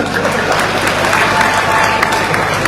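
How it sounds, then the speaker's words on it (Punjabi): A large crowd at a political rally for Navjot Singh Sidhu bursts into sustained, dense applause, loud and close, with voices mixed in throughout. "ਪਟਕਾ ਕੇ ਤਾੜੀ ਮਾਰੋ"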